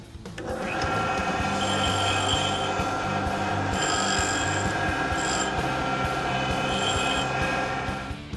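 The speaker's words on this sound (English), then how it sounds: "Pretty lucky that only one rod needs help from the resurfacing machine." Resurfacing machine working on a connecting rod from a GM 572 crate engine, a steady mechanical whirring and grinding with a faint high whine that runs continuously, fairly close, with no voices.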